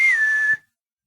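A single sustained whistle from a person, one steady tone held for about half a second with a slight pitch drop at the start, then cut off cleanly into silence; no talking.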